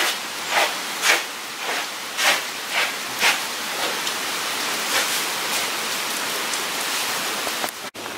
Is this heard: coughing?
no